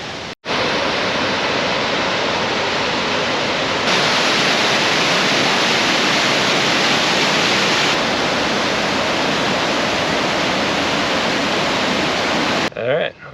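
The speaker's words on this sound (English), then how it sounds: "We'll go check out the falls here on the way back" A waterfall roars steadily and loudly, close by, as broadband rushing water in the Canadian wilderness on a canoe trip. It fills the whole stretch with almost no change, and a short break comes near the start.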